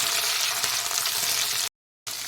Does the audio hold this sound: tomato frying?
yes